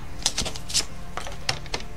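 A paper trimmer cuts small-format scrapbooking paper, giving a quick run of sharp, close clicks and scrapes that fall in an uneven rhythm over about two seconds with no one speaking.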